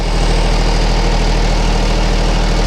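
The Weedinator, a robotic weeding tractor, runs its engine steadily while moving during a line-following test, giving a loud, constant drone with no breaks and no talk.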